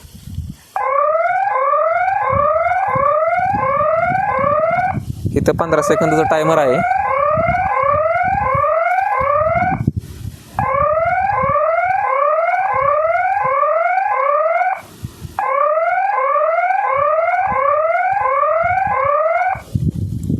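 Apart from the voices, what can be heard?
siren of a Trueview solar 4G farm security camera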